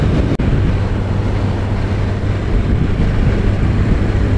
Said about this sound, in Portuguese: o vento vem com força.